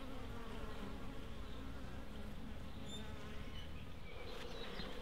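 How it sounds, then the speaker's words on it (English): A swarm of absconding honey bees buzzes continuously and densely, close and steady throughout with no voices. "So here they are, the absconding bees."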